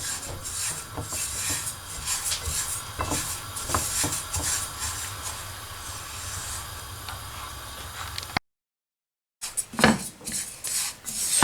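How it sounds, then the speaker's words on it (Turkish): Raw sesame seeds dry-roasting in a pan while being stirred, a steady rough scraping and rustling with rhythmic strokes, close and fairly loud, broken by a brief silence near the end before the stirring resumes. "Sadece susamı koydum ve bunu kavuracağım"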